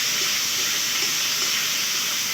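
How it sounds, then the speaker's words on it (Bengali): Chopped tomatoes sizzle in a hot pan while a vegetarian papaya dish is cooked, a steady, loud, close frying hiss with no talk. "কেটে রাখা টমেটোটা দিয়ে দেওয়া হচ্ছে।"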